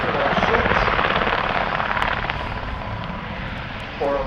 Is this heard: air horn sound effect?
no